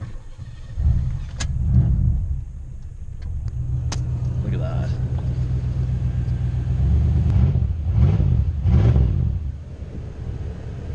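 An old Cadillac engine, not a Northstar, rumbles steadily at idle, with a few revs swelling the low roar; a voice speaks briefly over it.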